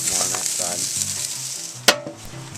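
Onion sizzles loudly on an outdoor grill during a cookout in the rain, a steady bright hiss that dominates throughout, broken by one sharp clatter near the end.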